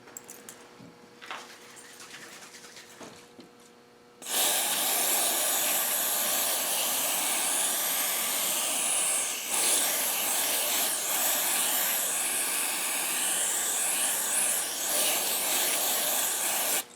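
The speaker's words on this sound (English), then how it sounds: "I'm just going to set them in here and spray them down with some car cleaner" Car cleaner sprays onto bicycle headset bearings in a long, continuous close hiss that starts abruptly after a few quiet seconds with faint handling noises and runs steadily to the end.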